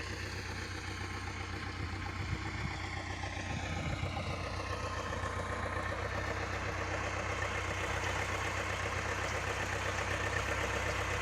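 A tractor engine runs steadily while pulling a potato digger through a field, a continuous low rumbling drone with a mechanical whine drifting in pitch, fairly distant and even in level throughout.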